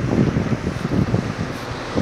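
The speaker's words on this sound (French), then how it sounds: "un petit peu de vent" Gusty wind buffeting the microphone in uneven low rumbles, fairly loud and continuous.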